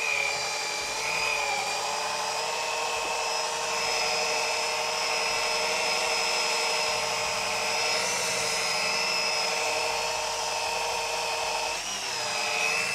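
Steady high-pitched whine of a machine polisher working car paint, edge-polishing a panel to remove holograms and bring up gloss; continuous and close, with no talk over it.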